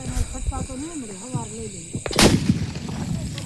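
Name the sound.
Diwali firecrackers bursting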